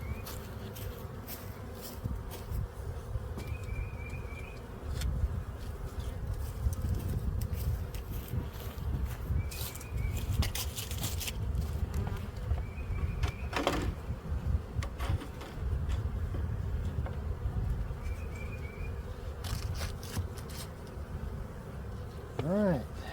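Honey bees swarm around an opened backyard hive in spring, their steady buzzing hum filling the air continuously and close by, with occasional louder passes near the listener.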